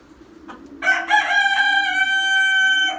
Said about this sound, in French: Le coq que j'ai acheté à Affligem avec une poule d'Affligem aussi.